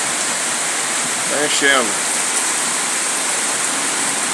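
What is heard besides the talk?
heavy rain with hail pouring on roof tiles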